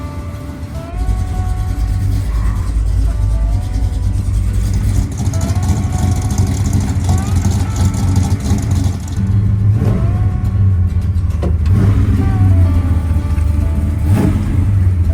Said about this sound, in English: The small block in the Biscayne fired right up and idled without any problems.